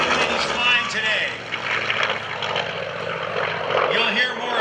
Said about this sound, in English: they flew a Grumman aircraft known as the F8F Bearcat